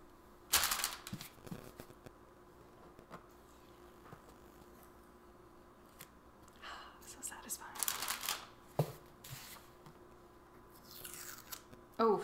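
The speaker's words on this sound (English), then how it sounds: "the book tape is coming off really smooth" Book tape being peeled off a library book makes soft tearing, crackling rips in short bursts, with quiet speech in between.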